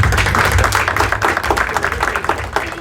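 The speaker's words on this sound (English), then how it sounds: "Bill, can you please start the clap?" An audience at a DJ and stage-lighting seminar at a trade show claps together in a loud, dense, close burst of applause that continues throughout and fades slightly toward the end.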